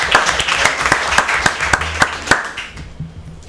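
A studio audience at a school quiz show claps together in a brisk, fairly loud burst of applause that dies away after a few seconds.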